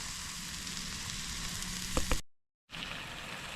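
A ribeye steak sizzles and crackles steadily over a campfire, close and fairly quiet, before a short silent gap and a return to the same frying hiss.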